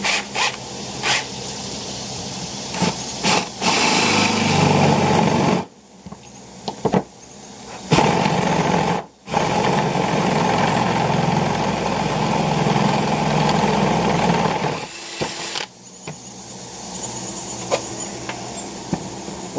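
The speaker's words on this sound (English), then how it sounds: "So let's see if this busted bit will make a hole." A power drill with a damaged bit grinds through an old metal brake rotor, giving a loud, continuous rough whine with heavy vibration, briefly stopping and restarting several times.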